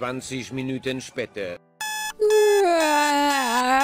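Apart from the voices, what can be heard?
alarm clock ringing, from the Roblox video game Brookhaven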